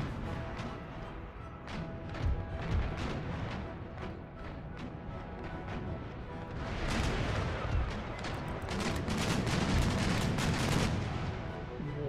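Ship cannons firing in a naval battle in Empire: Total War, a dense barrage of booming shots and crashes in overlapping volleys, heavier and more continuous in the second half, loud with no voices.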